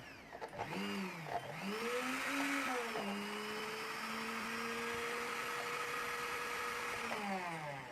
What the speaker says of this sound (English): Okay, the motor is running.